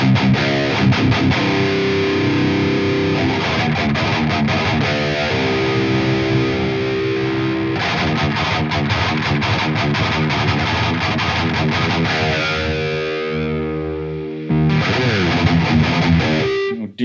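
Electric guitar run through a lo-fi effect from the JST Toneforge Disruptor plugin, playing loud distorted riffs with a gritty band-limited tone, brief pauses near fourteen seconds, no talking.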